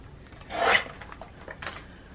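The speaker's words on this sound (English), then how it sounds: "I may trim just a tiny bit off of this Mickey." Scissors trimming the edge of a paper Mickey Mouse cutout for a Disney junk journal, a single short rasping snip-and-rub burst followed by faint paper rustles, close and quiet.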